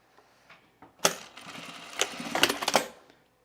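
A sewing machine stitches a half-zip fleece sweater in short mechanical bursts, a sharp clack followed by a few quick runs of stitching close by, with no talk.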